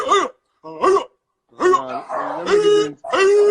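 A human voice imitates a dog barking: five or six short, voiced, yelping barks close to the microphone, separated by brief pauses and growing denser toward the end.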